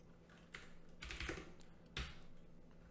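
Typing on a computer keyboard, with a few short bursts of clicking keystrokes at a moderate, close level, separated by pauses over low background hum.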